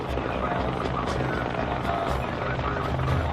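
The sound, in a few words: Cobra and Apache attack helicopters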